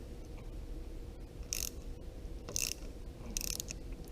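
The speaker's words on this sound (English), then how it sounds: "Now we're going to go ahead and loosen up the perch here for the clutch master cylinder." Loosening the clutch master cylinder perch on a Harley-Davidson motorcycle handlebar gives three short, bright ratcheting bursts about a second apart over a low steady background hum.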